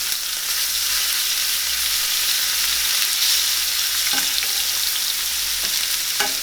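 Garlic and shallots fry in butter in a pan over medium heat, a steady close sizzle with a few light clicks of a utensil near the end and no talking.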